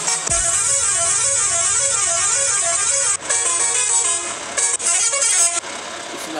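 A loud, sustained bus horn from an Indian traffic mod for Bus Simulator Indonesia blares with a wavering, warbling tone, cutting out briefly a few times before resuming, synthetic-sounding like a game effect.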